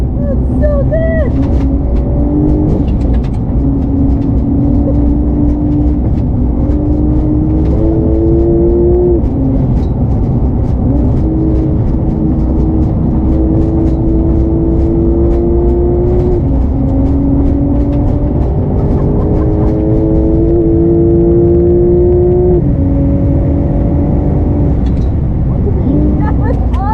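A Porsche 911 with a PDK gearbox laps a track, its engine droning loud and close throughout as pitch climbs through gears in repeated rising sweeps with quick drops at each shift.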